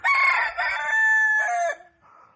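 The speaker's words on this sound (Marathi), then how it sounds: "कोंबडा आरवला" A rooster crows loudly and close by in a village, one long drawn-out call that trails off, followed by a softer brief sound.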